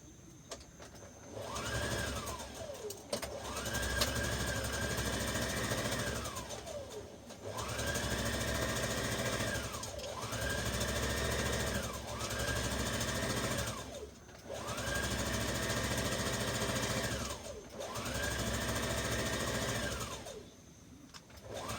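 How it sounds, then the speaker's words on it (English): A sewing machine stitches a tuck on a dress in repeated runs of several seconds each, its motor whirring up, holding steady and winding down between short pauses, close and clear. "we're gonna grab our sewing machine"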